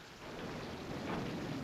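A thunderstorm in the 1958 film A Tale of Two Cities gives steady rain and a low rolling rumble, soft and distant throughout.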